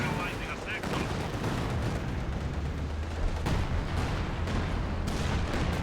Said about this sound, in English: Seeing artillery now having some impact.